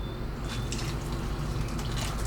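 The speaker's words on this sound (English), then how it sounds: "there's my boiling water. So let's put that in there" Boiling water poured into a bowl of Jello mix at home, a steady liquid splashing and trickling sound running continuously over low background hum, close and moderately loud.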